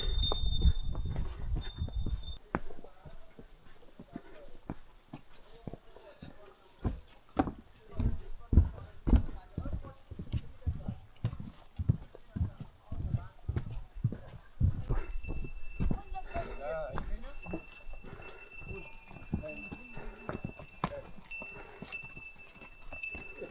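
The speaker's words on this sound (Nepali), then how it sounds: "यसरी घोडा सवार गरेर आउनु भएको छ" Horses ridden along a trail near Rara Lake in Mugu, Nepal, with hooves clip-clopping in a steady, irregular walking rhythm of many close, distinct knocks across the whole stretch.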